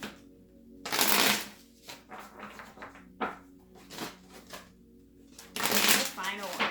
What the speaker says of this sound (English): So let's shuffle 2 more times.